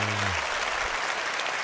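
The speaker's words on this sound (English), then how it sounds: "please give a round of applause for Leah" An audience at a convention event claps steadily and fairly loudly, a dense, sustained round of applause with a brief low voice fading out at the start.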